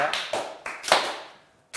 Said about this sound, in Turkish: Üzgün alkış yedik